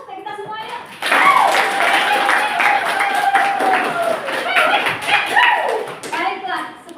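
A school class claps together in a rhythmic, patterned clap that is loud and close, mixed with children's voices.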